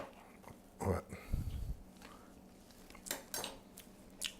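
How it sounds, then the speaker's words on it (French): Potato filling mashed and mixed with a fork, giving intermittent clinks and soft scraping against the dish, with short pauses between strokes and a low thud near the start. "prenez une fourchette. Et on va écraser et bien mélanger"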